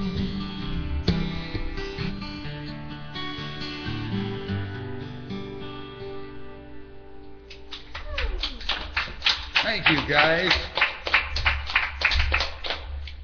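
A studio audience breaks into loud, close clapping as a sung music passage ends, with the rapid claps filling the second half and someone briefly speaking over them.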